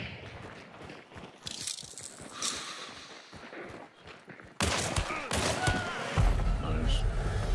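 Gunfire at a boss in the game Hunt Showdown, a burst of rapid shots crackling in the middle distance, getting louder and denser partway through, with voices talking over it.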